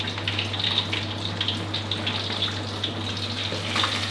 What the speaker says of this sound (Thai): ตอนนี้ผมก็ทอดด้านที่2มาได้ประมาณ4 นาทีได้ครับ